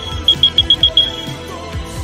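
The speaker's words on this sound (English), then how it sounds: "I hear the fucking smoke alarm." A smoke alarm gives six quick, shrill, evenly spaced electronic beeps in a row, loud and close, then stops, with low thumps of background game sound beneath.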